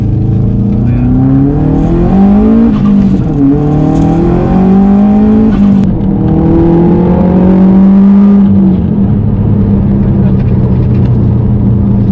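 A 407 bhp Subaru Impreza WRX with full exhaust and aftermarket unequal-length headers revs up close, its pitch climbing, dropping at each shift and climbing again through several gears before settling into a steady roar.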